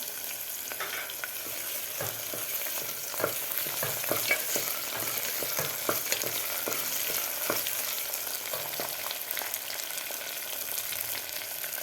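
Roasted coconut slices fry in hot oil in a pan for Khandeshi black-masala khichdi, giving a continuous close sizzle broken by frequent scraping clicks as they are stirred, with no talking.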